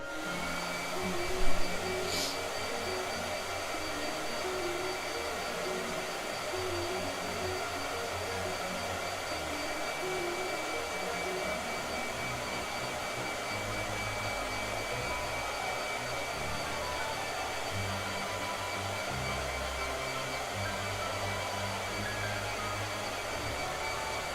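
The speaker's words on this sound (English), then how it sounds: "Blow dryer." Blow dryer running continuously at close range, a steady loud broadband whoosh with a faint whine that holds unchanged for over twenty seconds, preceded by one brief click near the start.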